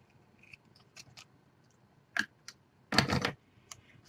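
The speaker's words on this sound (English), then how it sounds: "I'm just going to go ahead and trim this piece off here." Paper being trimmed for a princess-themed 8x7 craft mini album page: two distinct cutting snips, one short and one longer, close and fairly crisp against a quiet room with faint handling noises.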